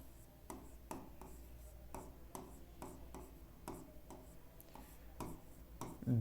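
Pen or chalk scratching out an equation by hand during a maths lesson, a series of short, faint strokes at an irregular rhythm, quiet and close with no talk over it.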